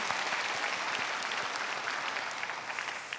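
A church congregation applauds a choir and chamber ensemble after a worship service performance, with a steady, dense wash of clapping that holds evenly for a few seconds.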